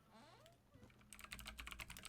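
Keys on a mechanical computer keyboard rattle in a quick, quiet burst of clacking that starts about halfway through, after a near-silent opening.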